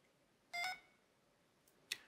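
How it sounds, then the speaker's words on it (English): A LEGO Education SPIKE Prime hub in Bluetooth pairing mode gives a short tonal beep, then a quieter blip and another brief beep, faint against a quiet room. "there is a beeping noise to alert you that your Prime is in pairing mode"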